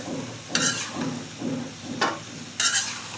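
Koi fish curry with eggplant and potato cooking down in a pan, a steady low sizzle broken by a few brief stirring scrapes, close and moderately loud with no one talking.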